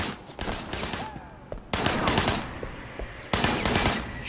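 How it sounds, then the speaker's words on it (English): Video game Sleeping Dogs: a shooter fires from a car's passenger window, giving three loud bursts of rapid shots with short quieter gaps between them. "There was a shooter, firing shots from the passenger window."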